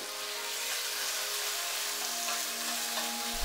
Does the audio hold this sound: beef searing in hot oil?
yes